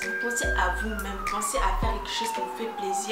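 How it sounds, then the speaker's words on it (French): A siren wails in the background with a slowly falling tone while someone speaks in the foreground. "Désolée pour cette sirène-là"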